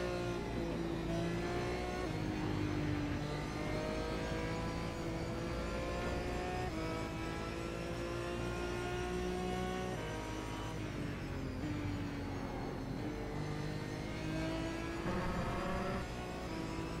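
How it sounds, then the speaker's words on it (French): A race car engine in the iRacing simulator at Summit Point drones steadily at high revs, its pitch shifting with gear changes and acceleration, loud and continuous without any talking. "Donc on vous a laissé écouter le son de sa voiture."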